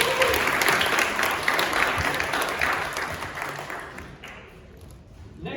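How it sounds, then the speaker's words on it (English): An audience at a startup pitch event claps steadily, a dense wash of applause that gradually thins out and fades toward the end. "Please give her a round of applause."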